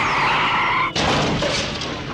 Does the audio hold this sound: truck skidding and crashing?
yes